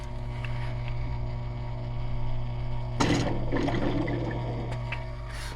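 Bubbling gurgle of air blown into the water tank line of a GE Profile Opal 2 ice maker with pump and float issues, starting abruptly midway and churning loudly over a steady low mechanical hum.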